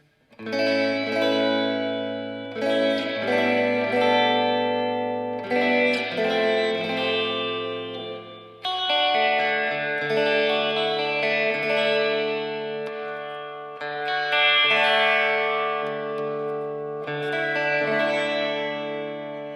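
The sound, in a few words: guitar through reverb effects pedal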